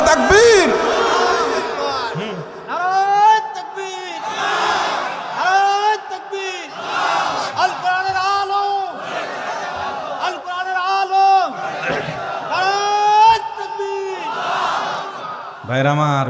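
A large crowd at an outdoor Islamic sermon roars the takbir in several loud, rhythmic collective shouts, answering a preacher's call with a strained, echoing voice. Each burst of chanting swells and breaks off, and short pauses fall between them.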